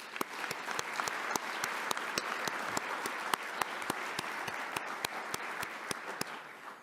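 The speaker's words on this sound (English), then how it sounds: "please join me in a round of applause for them" A large audience at a GovTravels 2019 opening ceremony applauds the event sponsors. The clapping is dense and even, with a few sharp claps standing out near the front, and it stays steady until it fades slightly at the end.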